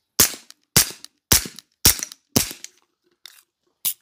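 A suppressed M9A4 pistol with a PWS BDE9 suppressor firing 147-grain subsonic ammunition: five sharp, evenly spaced reports about half a second apart, then a faint crack and one more shot, each loud and clipped.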